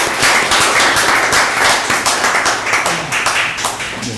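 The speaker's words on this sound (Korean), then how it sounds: "박수 드릴까?" An audience claps for a church elder giving a faith testimony on his debut day, a loud, dense wash of applause that sustains evenly throughout with no pauses.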